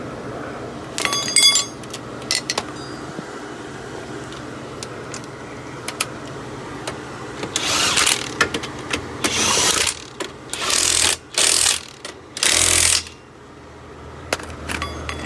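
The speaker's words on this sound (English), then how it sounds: "I'm going to put 2 lug nuts on." Lug nuts put onto a wheel of a 2007 Mercury Grand Marquis: scattered metallic clinks and rattles, then several bursts of louder threading and ratcheting, close up with no talk.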